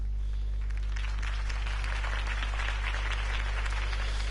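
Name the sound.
crowd applause after Harvey Dent speech, from Batman Telltale video game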